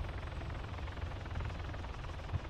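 Helicopter in the video game Arma 3, a low rhythmic rotor thump and engine drone at moderate distance, steady throughout the brief moment.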